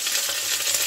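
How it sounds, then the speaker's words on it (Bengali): Cauliflower pieces frying in a little oil over high heat, giving a steady close sizzle and hiss that holds even throughout the short moment, with no voices. "এর মধ্যে আমি ফুলকপিটাকে একটু ভেজে নিচ্ছি"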